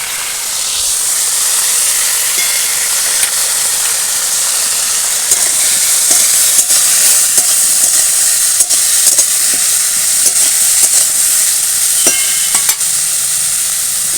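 Vegetables fry in a pan for a bottle-gourd and fish curry, with a steady loud sizzle and hiss that holds throughout, broken by faint clicks of stirring, with no talk over it.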